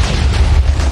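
Minecraft explosion destroying a village, a loud, dense, sustained rumbling boom that fills the whole second without letting up.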